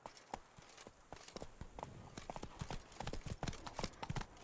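Hooves of Roach, a horse in The Witcher 3: Wild Hunt Blood and Wine, clip-clopping in a quick, irregular rhythm, fairly close and faint, with no talk.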